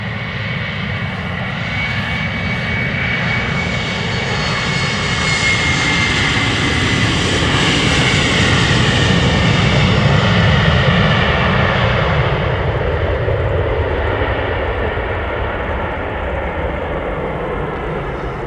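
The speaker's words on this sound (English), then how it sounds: "The KLM flight 1175 to Stavanger taking off next." A KLM Embraer 190 jet departs Amsterdam Schiphol Airport with a loud, close, sustained engine roar that swells in the middle and eases slightly toward the end, with no voices.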